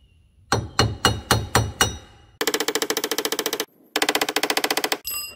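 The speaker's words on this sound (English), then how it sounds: "I'm gonna get a punch, go to tapping on them, and I'm sure that I can get the broken ones out." Metal punch struck with a hammer against broken wheel studs on a Polaris Ranger side-by-side hub: six spaced heavy blows, then two long runs of rapid, ringing metallic taps close by.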